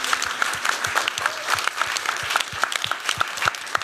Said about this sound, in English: let's just give a round of applause to the panel